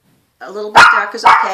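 A dog barks twice in short, loud bursts close by, with a person talking over and between the barks in a home setting.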